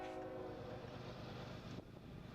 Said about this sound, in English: This looks like an empty ore train, except it's apparently got one load.